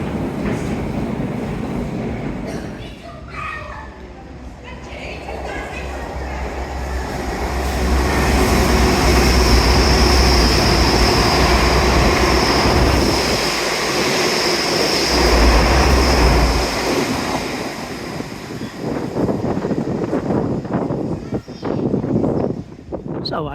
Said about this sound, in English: We'll have another train go through.